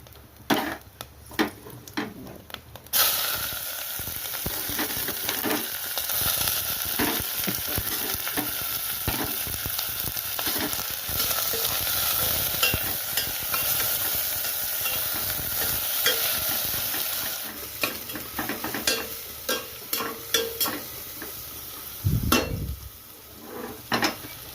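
Onions fry in a pan for desi chicken curry, a steady loud sizzle running through most of the stretch, with stirring scrapes and utensil knocks at the start and end.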